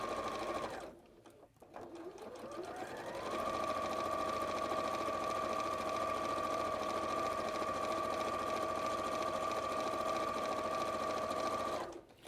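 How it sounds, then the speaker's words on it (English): A sewing machine top-stitches down a fabric edge for a bag, running in one long steady burst after a brief start and pause, close and clear with no speech over it. "the other side you're top stitching it down or edge stitching it down"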